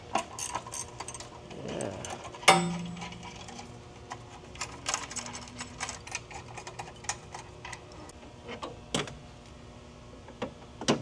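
An Astro ratchet working fasteners off the bumper of a 2025 Civic Type R, with rapid ticking clicks, a brief whirring burst and scattered knocks in a garage, close and moderate, with a brief spoken word.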